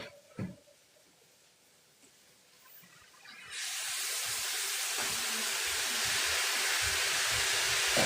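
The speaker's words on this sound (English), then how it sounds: "That nice sizzle, and then we go." Rice stick noodles and greens hit a hot stir-fry pan. After a few quiet seconds with faint clatter, a loud, steady sizzle bursts in and hisses on continuously, with small pops of utensil scraping underneath.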